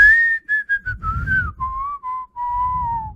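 Clear solo whistled melody from a Christmas song recording, a bright sustained tone gliding through a sequence of notes over soft low accompaniment, with short pauses between phrases.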